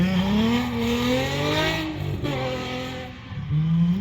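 A Nissan S15 Silvia laps a race track, its engine revving hard through rising and falling pitch sweeps as it accelerates, lifts and shifts, loud and close with no voices.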